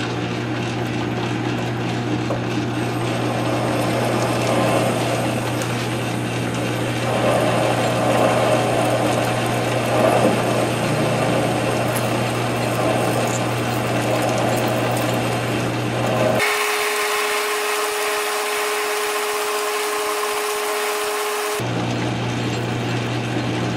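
A South Bend 13-inch lathe runs with a steady motor hum and a low mechanical drone, shifting in tone partway through as the machine changes speed, close and continuous with no speech.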